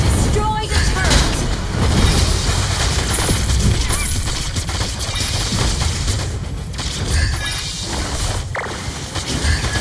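A turret is destroyed in a Mobile Legends match amid dense battle effects: rapid bursts of blasts, booms and gunfire-like hits layered over constant action noise, with an announcer-style voice speaking over the mix.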